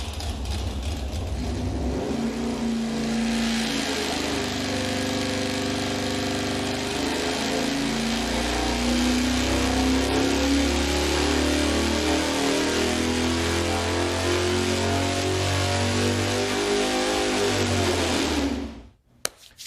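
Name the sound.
engine running and revving on dyno with electronic ignition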